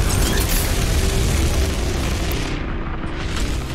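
Heavy rocket launcher blasts in DOOM Eternal during the final boss fight, a dense, continuous wall of booming explosions filling the whole stretch with no pause.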